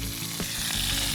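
Chicken kabab cooking in a pan with very little oil, sizzling loudly and steadily up close, with a brief scrape as the pieces are turned over.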